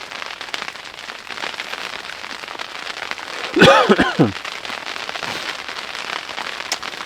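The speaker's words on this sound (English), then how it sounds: "it sounds like it has turned to rain out there" Rain patters steadily on a tent in snowy Pennsylvania camping conditions, a close, even hiss of drops, briefly interrupted midway by a louder rustle or voice.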